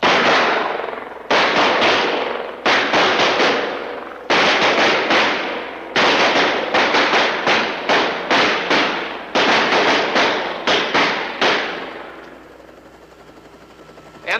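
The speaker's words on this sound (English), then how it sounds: "Fire at will." Rapid gunfire at an outdoor shooting range, many shots cracking in quick bursts and overlapping volleys, loud and close, continuing for over ten seconds before tapering into a quieter tail.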